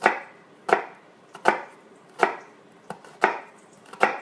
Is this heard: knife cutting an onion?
yes